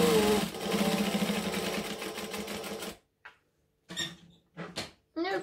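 A sewing machine runs a steady, fast stitching burst for about three seconds while sewing a clutch seam, followed by a few short, separate stitch bursts with brief silences between them.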